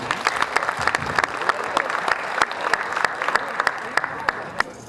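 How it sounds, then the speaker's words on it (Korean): Audience applause at a Korean community organization's ceremony, a few seconds of moderately loud, scattered clapping with sharp individual claps over a dense patter, fading slightly toward the end. "큰 격려의 박수 부탁드리겠습니다"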